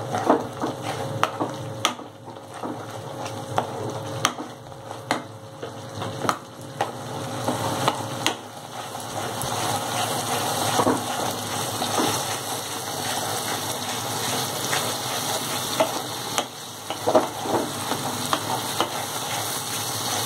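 Chili powder spice paste made with four dried red chilies fries in a pan, giving a long, steady close sizzle broken by repeated scraping strokes and occasional taps of a spatula against the pan.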